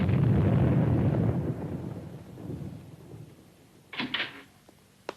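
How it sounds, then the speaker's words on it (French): A deep, distant boom rolls out and slowly fades, followed by a couple of sharper thuds; heavy cannon fire far away. "le bruit des canons se rapproche"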